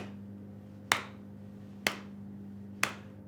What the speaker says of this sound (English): So if I clap like this,